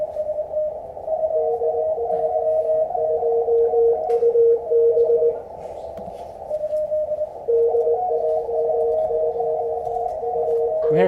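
Several overlapping Morse code tones from CW practice software pileup beep at slightly different pitches, a steady flurry of dits and dahs with short gaps.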